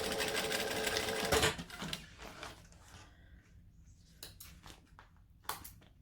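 A home sewing machine running a back stitch while a pocket is sewn, heard as a steady mechanical whir for the first second and a half that breaks off into scattered clicks and taps. No one speaks.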